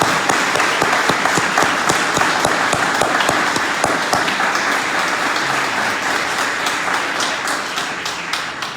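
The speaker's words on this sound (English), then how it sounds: "just one more round of applause for all our inductees tonight" A hall full of people at a school hall-of-fame induction night gives a steady round of applause for the inductees, dense clapping with a few sharp individual claps standing out, continuous and close.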